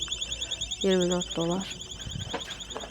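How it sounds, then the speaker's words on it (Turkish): A security alarm in a Ross discount store beeps continuously, a steady high electronic tone that persists throughout, while a shopper speaks over it. "Bu alarm ötünce susmuyor"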